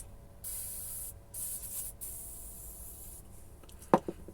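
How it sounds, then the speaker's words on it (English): WD-40 aerosol sprayed onto glass jars in short hissing bursts, a longer blast followed by two briefer ones, close and fairly quiet, ending with a light knock of a jar. "Sometimes I'll just spray it onto the jars"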